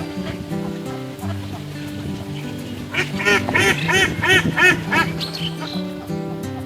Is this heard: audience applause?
no